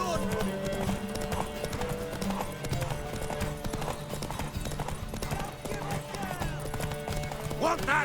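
Horse hooves clip-clopping at a steady trot in The Witcher 3, under nearly continuous game dialogue and background music.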